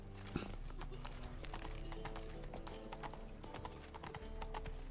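Roach, a horse in the Witcher 3 video game, gallops with steady, rapid clip-clop hoofbeats that carry on loud and continuous under busy game ambience, with a brief whinny near the start.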